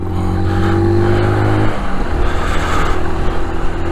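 Brixton 125 motorcycle engine, a 2021 Euro5 Sunray or Rayburn, pulls away from a standstill with a steady single-cylinder drone that shifts in pitch midway as the bike gets moving, close and fairly loud throughout.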